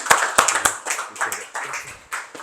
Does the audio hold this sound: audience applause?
yes